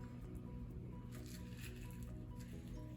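Wet pumpkin seeds and stringy pulp squish and slop in a colander, a steady close, dense mushy rustling that runs the whole time with no voices.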